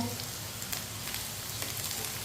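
Potatoes and okra for aloo bhindi fry in a pan, giving a steady, dense sizzle with occasional stirring clatter, close and continuous with no talk.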